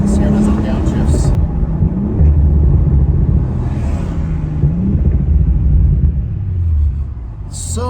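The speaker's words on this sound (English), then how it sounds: "Let's see how it is on downshifts." An Audi RS5 fitted with a 034Motorsport billet transmission mount downshifts under acceleration. Its engine gives a steady, loud, close rumble that shifts in pitch midway through.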